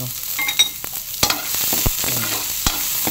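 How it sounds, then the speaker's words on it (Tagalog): Onions sizzle steadily in a hot pan for a mackerel dish, with sharp clinks and scrapes of stirring breaking through the continuous frying hiss. "ilagay na natin ang ating sibuyas kasi masusunog din naman yan"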